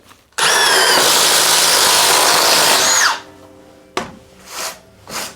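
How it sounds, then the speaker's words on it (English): A loud power drill boring a small hole with a 3/8-inch bit whirs continuously for about three seconds, then stops, followed by a few short bursts of the motor. "we're gonna make a small hole with the 3/8 drill bit"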